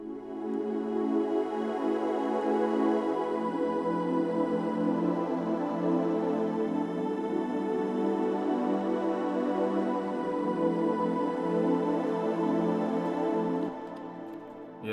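Sustained choir-like pad with keys in an FL Studio beat, a smooth continuous chord held steady and loud, shifting harmony once early on, then cutting off near the end.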